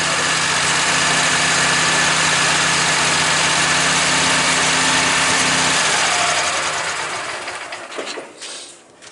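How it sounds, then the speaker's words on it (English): A Woodmizer LT15 sawmill engine idles steadily on a frosty morning while warming up, a loud, even mechanical drone that is shut off after about six seconds and quickly dies away to near silence. "I've got the sawmill warming up"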